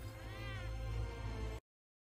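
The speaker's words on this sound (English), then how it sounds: "The respectable and furry Red Shirt Cat" A cat meows in World of Tanks, one drawn-out, wavering meow heard close and clear, ending in abrupt silence.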